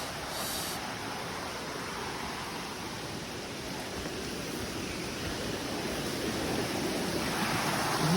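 A river rushes steadily outdoors, a broad continuous wash of flowing water that swells slightly louder toward the end, with no voices.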